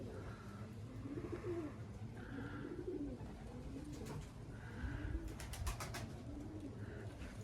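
Young tumbler pigeons coo repeatedly in soft, rolling phrases at close range, with steady background noise and a few brief higher chirps mixed in.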